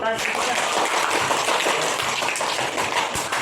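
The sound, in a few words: classroom applause for a presenting group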